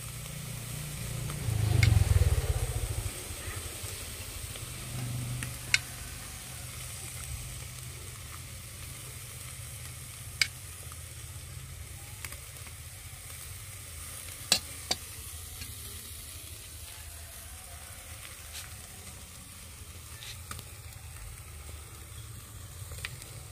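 Food in a pan with marinated sauce poured in hisses in a soft, steady sizzle, with a brief louder burst near the start and occasional small clicks, and no voices.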